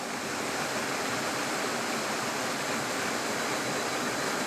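The Falls of Monzie roar as a steady, broadband rush of falling water, constant and fairly distant without a break or voice.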